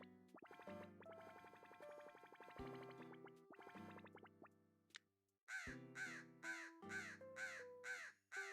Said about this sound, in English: I got so confused by the crow sound.